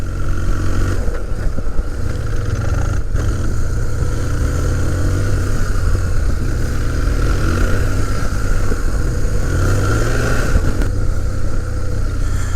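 Motorcycle ridden along twisty hill roads, engine droning steadily with rising and falling revs and wind rush throughout, loud and close.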